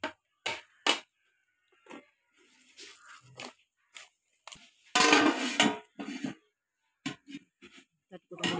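A banana leaf being placed into a biryani pot produces a few scattered rustles and light clanks against the metal pot, with one louder crinkling burst in the middle, close and otherwise quiet.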